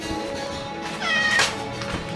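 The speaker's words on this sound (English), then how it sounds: "guess what shows up? A new kitten." A new kitten meowing in a kitchen during cooking, one clear rising meow in the middle over a steady background hum, close and fairly loud, with no talk.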